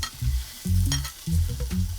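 Pork hits the hottest part of a pan and fries while a spatula stirs it, giving bursts of sizzle with heavy scraping strokes in three distinct pulses, near and loud, no voices.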